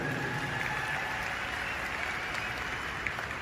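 A large audience at a company speech event in Nalagarh claps steadily, a dense, even wash of applause that lasts the whole time with no pauses.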